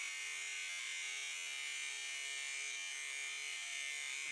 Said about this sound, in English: It'll take some time to grind through it, but a little bit of patience and you'll have a nice straight cut